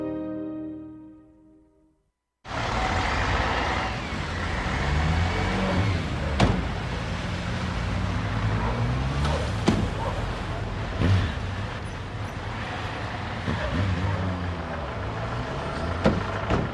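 A car engine idles and runs steadily at close range after a brief quiet start, a continuous low mechanical hum with a few sharp clicks and knocks over it.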